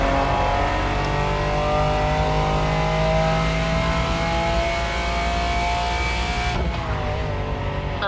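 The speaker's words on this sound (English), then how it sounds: "we're talking about the sensational Lamborghini Diablo" Lamborghini Diablo engine in The Crew Motorfest, a steady, loud, sustained drone with strong harmonic layers holding for several seconds before dropping off sharply near the end.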